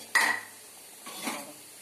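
A metal spoon strikes and scrapes a pot of rohu fish curry, one sharp clink followed by a softer scraping stir about a second later, close and alone.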